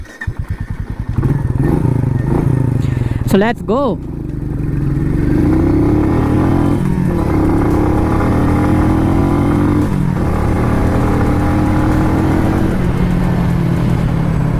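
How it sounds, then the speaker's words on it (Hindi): A 2022 Royal Enfield Meteor 350 motorcycle engine fires up with a few sputtering bursts, then settles into a steady, loud running drone as the bike rides off; a brief voice is heard at the start. "अब अपन बाइक को राइड करते हैं"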